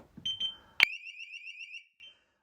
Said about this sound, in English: All hell lets loose and the alarm sets.